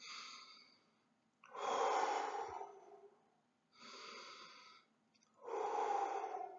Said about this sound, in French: tu prends 5-10 grandes respirations